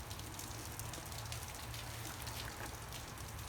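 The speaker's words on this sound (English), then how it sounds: "as you can hear, it's a rainy day" Rain falls outside on a rainy day as a constant, dense hiss of drops on a surface, even and unbroken throughout, heard alone at a moderate distance.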